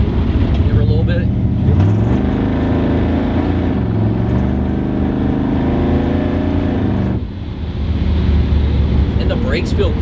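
Buick Grand National car accelerating hard, a loud sustained engine roar with wind rush that dips briefly before pulling again, heard from inside with people talking over it.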